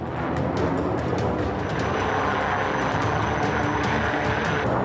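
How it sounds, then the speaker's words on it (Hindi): Powerful fighter jets roar overhead at an Indian Air Force display, a dense, sustained rumbling blast that stays loud and steady throughout with no voices. "दुनिया के एक से बढ़कर एक ताकतवर लड़ाकू विमानों की गर्जना"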